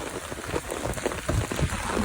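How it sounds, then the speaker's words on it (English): Heavy rain during Typhoon Nanmadol in Japan, a dense steady patter of drops on surfaces, fairly close and continuous. "And the rain literally caught us."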